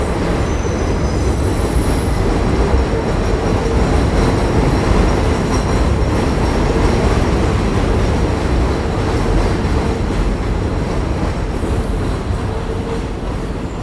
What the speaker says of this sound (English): Let this train go by real quick.